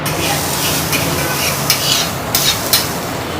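A Davanagere-style butter masala dosa roasts in plenty of butter on a hot griddle in an old Bengaluru hotel, giving a close, steady sizzle broken by a few sharp scraping clinks of a spatula.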